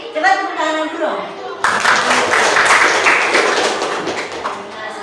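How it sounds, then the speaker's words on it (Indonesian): Children in an Islamic religious education class burst into dense group hand clapping that fills the last few seconds, steady and fairly loud, after a teacher's voice at the start. "Coba tepuk tangan dulu dong."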